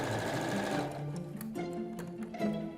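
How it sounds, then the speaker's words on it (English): A sewing machine stitches the last seams of hand-printed fabric blinds, whirring in short, close bursts that stop and restart. "Just sewing the last few seams together so that I can get on and actually hang these blinds"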